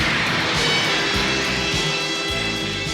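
Veritech fighters of the Skull Squadron taking off in the Robotech anime, with a loud, steady roar of jet engines that stays sustained and near throughout.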